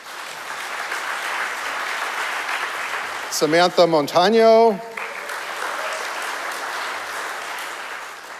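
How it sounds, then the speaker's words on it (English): Audience applause breaks out at a ceremony celebrating 20 years of the freedom to marry. A short burst of clapping rises between spoken introductions, with a voice speaking over it. "You can clap for each and all of them."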